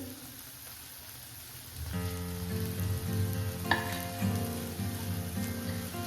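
Cashews and melon seeds fry in a pan, a steady close sizzle with crackling that rises when they go in and continues throughout, with a single sharp clink partway through.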